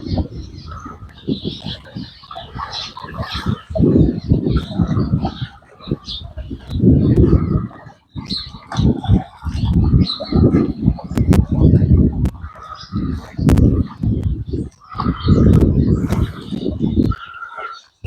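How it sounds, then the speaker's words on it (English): Outdoors near water while fishing, a young bird calls with soft, repeated cooing notes, with a person talking over and around the calls throughout. "Baby bird right there."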